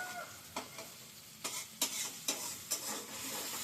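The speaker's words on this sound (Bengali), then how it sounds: "মশলাটা কষে এসছে" A spice paste for paneer posto, with potatoes, fries in oil in a pan. About six rhythmic spatula scrapes cut through a soft, continuous sizzle, close and fairly quiet.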